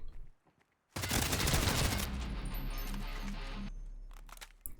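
Bursts of rapid automatic gunfire in the video game Hired Ops, loud and dense, starting abruptly after a brief quiet and continuing for several seconds.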